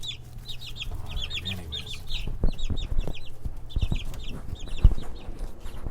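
Chicks peep and chirp in quick repeated bursts, with soft clucking and some handling noise underneath.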